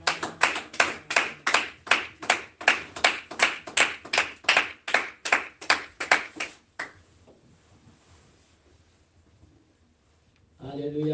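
A church congregation claps in unison, about three loud, even claps per second for nearly seven seconds. Then comes a quiet hush, and a voice begins speaking near the end.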